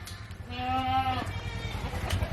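A single goat bleat with a clear harmonic wail lasts about a second, close and fairly loud over a steady low rumble of wind or an engine.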